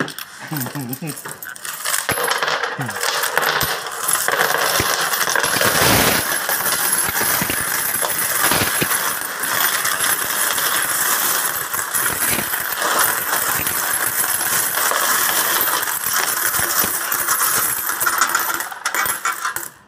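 A long, continuous cascade of about 5 kilos of coins pours and clatters loudly, a dense metallic jingling that barely lets up.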